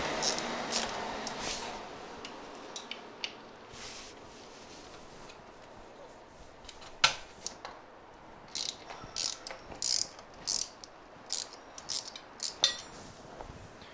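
A ratchet wrench works on brake caliper bolts at the chainstay of an aluminum road bike frame, giving sparse clicks early and then a run of short sharp ratcheting bursts near the end, close and otherwise quiet.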